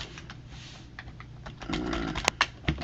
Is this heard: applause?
no